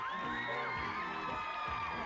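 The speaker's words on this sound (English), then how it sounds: "Big round of applause, guys." Game show studio audience on a 1994 children's geography quiz, a lively mix of whoops, shouts and cheers from a crowd of young voices, loud and continuous with rising and falling yells.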